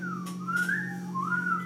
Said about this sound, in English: You either whistle with your mouth, your tongue, your teeth, or you create that sound on your instrument.